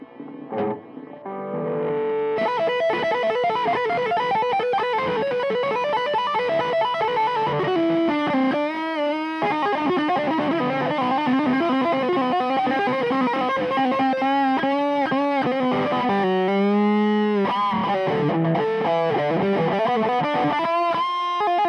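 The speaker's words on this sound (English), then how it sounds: "let's do some tapping stuff with good distortion" Fast tapped electric guitar notes through heavy distortion and chorus, fluid legato runs and bends played continuously and loudly.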